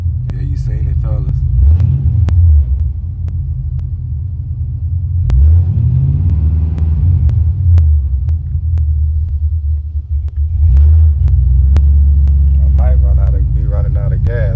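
Buick Regal engine running on Holley EFI, a loud steady low idle rumble broken by a couple of rising and falling throttle revs, with someone talking over it.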